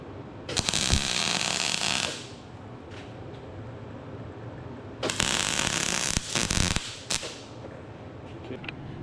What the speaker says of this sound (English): That we'll just weld that on right there.